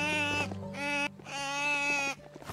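A goat in the Biomutant video game bleats loudly and close, in two long wavering calls with a short pause between them.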